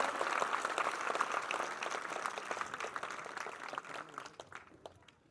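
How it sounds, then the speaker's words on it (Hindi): Villagers at a public gathering applaud to welcome four girls, a crowd's rapid scattered clapping heard from some distance, fairly faint, gradually thinning and fading out at the end. "एक बार शानदार तालियों के साथ इनका स्वागत किया जाए"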